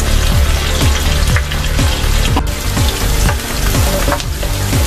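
Onions fry and caramelize in a pan, sizzling loudly and steadily up close, with recurring stirring sounds at a regular rhythm.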